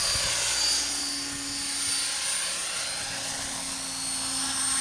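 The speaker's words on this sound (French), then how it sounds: "Hélico intact au point de décollage." Helicopter rotor running at a takeoff point, a loud continuous whirring drone with steady pulsing beat, close by and alone.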